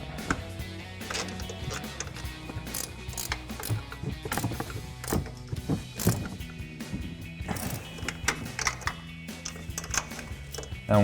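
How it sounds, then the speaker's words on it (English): A 14mm ratcheting wrench tightening the upper strut nuts on a 2019-2024 Silverado 1500 during a 3-inch lift kit install, with rapid clicking ratchet bursts and metallic knocks close by, no talk. "take a 14mm ratcheting wrench to tighten down our upper strut nuts"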